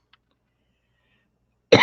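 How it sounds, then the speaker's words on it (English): After near silence, one sharp, harsh cough bursts out close and loud at the very end. "You came in time to hear me cough like a maniac all day."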